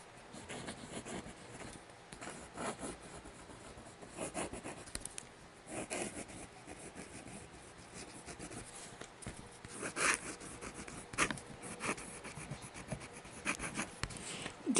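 An eyedropper-filled fountain pen nib scratching across paper, faint close scraping strokes in irregular bursts over about fifteen seconds, with no speech.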